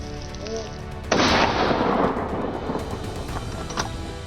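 Gunfire during a wild boar hunt in an open field: one sudden loud blast at close range rolls into a long booming echo that slowly fades, with a fainter crack later.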